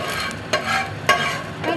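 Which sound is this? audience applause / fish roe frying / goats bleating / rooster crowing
fish roe frying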